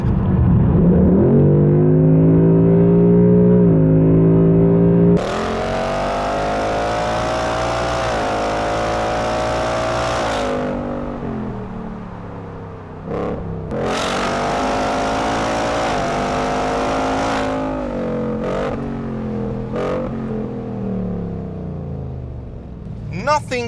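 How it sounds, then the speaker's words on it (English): A Ford Mustang GT is floored on a highway, its engine note climbing in steady, loud drawn-out rises broken by gear changes, with a continuous close-up roar throughout the clip. "So now it's time for the occasional floor it moment on the highway."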